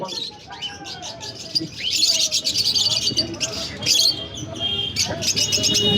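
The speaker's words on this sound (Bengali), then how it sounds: "এই পাখিগুলো দেখুন, ছোট্ট ছোট্ট পুচকি পুচকি টুনটুনি পাখির মতন দেখতে" Many small birds chirp and tweet in a busy cluster at a bird market in Kolkata, their high calls overlapping amid faint background chatter.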